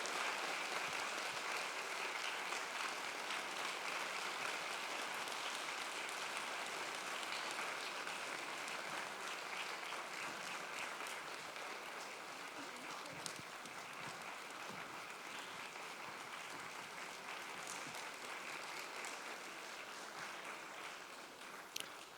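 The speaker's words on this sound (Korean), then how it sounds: "뜨거운 박수로 소울 프로젝트 콰이어를 맞이해 주시기 바랍니다" An audience at a concert applauds continuously and evenly, a broad wash of clapping that carries on for the whole stretch and fades slightly toward the end as a choir is welcomed.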